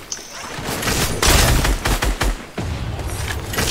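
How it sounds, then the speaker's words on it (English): Gunfire in the video game Fortnite: a dense, loud burst of rapid shots with booming low impacts. A brief pause comes midway, then more firing follows. "Are you still shooting?"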